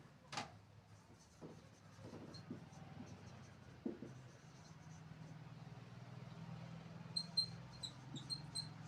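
Pen or marker writing on a board or paper during a class 10 physics lesson on light reflection and refraction gives faint intermittent scratchy strokes, with someone talking quietly at times.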